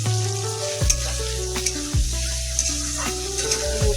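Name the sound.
potatoes frying in oil in a pan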